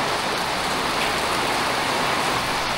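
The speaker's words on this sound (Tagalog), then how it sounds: "Ito ng patak ng ulan, ng lakas." Heavy early-morning rain pours in a dense, unbroken hiss, close and loud, with no voices.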